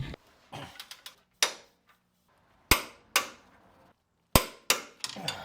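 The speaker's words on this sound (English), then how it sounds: "tighten them up using our wrench and socket to 101 foot-pounds of torque each" Sharp metallic clanks and ratchet-like clicks come from a wrench and socket tightening 19mm bolts to 101 foot-pounds during a Toyota regear. The impacts arrive as irregular separate bursts close to the mic, and nobody speaks.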